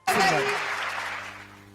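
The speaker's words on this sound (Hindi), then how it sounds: "जोरदार तालियां, जोरदार तालियां।" An audience at a patriotic poetry recital breaks into applause that starts abruptly, stays full for a moment and then thins out, with a voice speaking over it.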